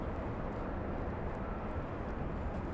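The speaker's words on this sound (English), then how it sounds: "Looks like we have a 787 Dreamliner. That's United Airlines heading to the parking area." A United Airlines Boeing 787 Dreamliner taxis toward the parking area at LAX on a cold day, its engines a steady, even broadband rumble throughout with no voices.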